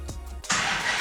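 A Dodge Challenger starts up at night: a short starter crank, then the engine catches with a sudden loud roar and settles into a full, steady running sound, close by.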